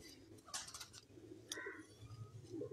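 Pigeons kept on a rooftop coo softly in a few repeated low phrases, faint against background noise, with someone talking nearby.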